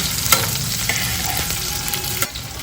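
Onions fry in a pan toward a light brown, giving a steady close sizzle with a few sharp clicks of stirring and scraping throughout.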